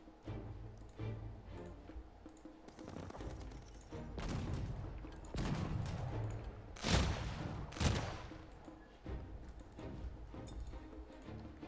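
Artillery and musket volleys in a strategy video game battle, sounding as scattered, sharp bursts of gunfire that build into several louder booming blasts near the middle.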